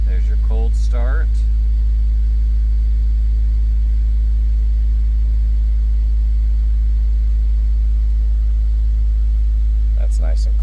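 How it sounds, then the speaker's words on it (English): A 2003 Honda S2000 with 96,071 miles idles after a cold start, a steady low engine rumble running evenly throughout, close and unbroken, with a brief sharp noise near the start and end. "There's your cold start."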